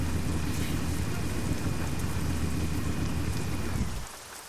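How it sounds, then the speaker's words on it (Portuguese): Steady rain pours down in Euro Truck Simulator 2 during a truck drive, a loud dense hiss of drops drumming on the cab that runs unbroken before dropping away sharply near the end. "Esperar um pouquinho também a chuva passar"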